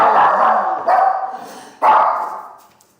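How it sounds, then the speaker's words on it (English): A pet dog barks loudly and close by in a home, three long, harsh barks in a row that fade away at the end, with no talk over them. "That was my dog"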